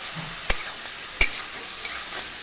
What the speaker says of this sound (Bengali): আদা দেবো আর এইভাবে ভেজে নেব